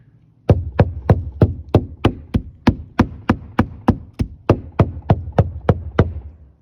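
Knuckle or hammer taps on plywood roof decking while sounding out a hidden truss beneath shingling work: about sixteen sharp, evenly spaced knocks in a steady rhythm, close and loud, with no talking.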